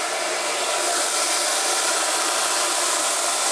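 A hair dryer roars steadily at close range while it blows out freshly dyed ombré hair, a loud, constant airy whoosh with no pauses and no talk.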